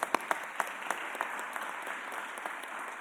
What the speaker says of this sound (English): she really does deserve a round of applause